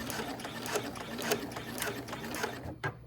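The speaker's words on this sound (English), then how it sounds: "Increase the tension and sew up to the edge, then back stitch" Near and fairly quiet, a sewing machine stitches an appliqué onto a bag, its needle ticking in a steady mechanical rhythm before it halts near the end with a small clunk.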